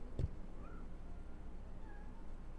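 A house cat gives two faint, short meows, one early and one near the end, quiet against a low background hum.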